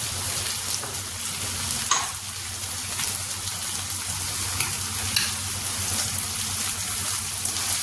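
Onions with ginger garlic paste sauté in hot oil for a vegetable biryani, a steady close sizzle and fry with occasional soft clicks of stirring.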